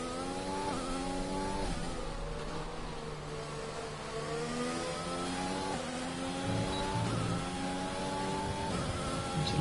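A McLaren Formula 1 car in a racing video game at the Hungary circuit, its high-pitched engine whining steadily with shifting pitch as it revs and changes gear, continuous and moderately loud with no voices.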